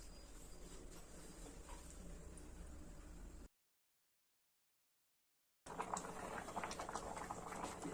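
A pot of colostrum milk pudding with flattened rice bubbles on the stove, a soft continuous patter of boiling with faint pops, cut by a gap of silence midway before resuming slightly louder.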